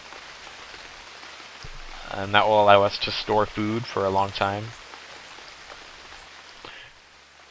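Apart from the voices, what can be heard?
rain in the video game Unreal World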